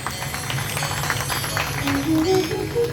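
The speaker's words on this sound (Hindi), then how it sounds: "तालियां बजा दो सभी की" An audience at a Hindu scripture recitation gathering applauds with steady, moderately loud clapping, accompanied by sustained musical tones and a rising melodic line toward the end.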